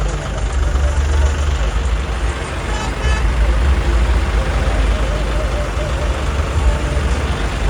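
A tractor engine idles with a steady, low rumble, continuous with no break, close by and fairly loud throughout.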